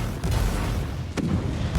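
Enemies burst apart after a flamer attack in Warhammer 40,000: Inquisitor, a dense, rumbling wash of booming explosions that holds loud throughout with a few sharper hits.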